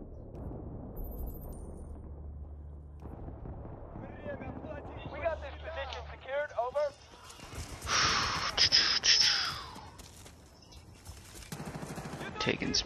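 Battlefield Bad Company 2 game audio: bursts of gunfire and explosive rattling in the middle of the stretch, mixed with breathy vocal noises and other in-game sounds.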